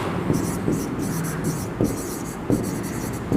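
Writing on a board during a biology lecture: rhythmic bursts of scratchy marker strokes, each several short squeaks long, with brief pauses between them, close and fairly clear.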